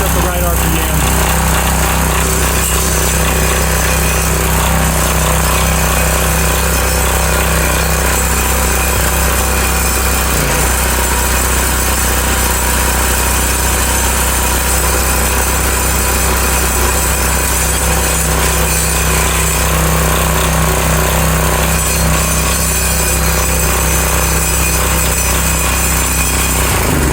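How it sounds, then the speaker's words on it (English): A front tine garden tiller's small engine runs steadily at working speed after being primed and restarted, a loud continuous mechanical drone that holds its pitch from start to finish with no pauses. "After I primed it, started. Now it's at the right RPM."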